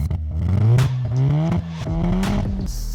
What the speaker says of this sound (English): Have an HKS exhaust.